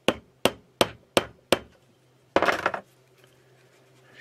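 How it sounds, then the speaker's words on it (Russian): Five sharp, evenly spaced hammer taps ring out as a small hammer drives a rivet into a kitchen knife handle, followed by a brief scraping rustle, then quiet; close and fairly loud, with no talk. "и забиваем молоточком."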